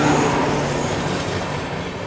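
The Rajendra Nagar Patna–Ajmer Ziyarat Express overtakes at close range, a loud, steady roar of passing coaches and rolling wheels with faint squeal, continuous throughout without talk.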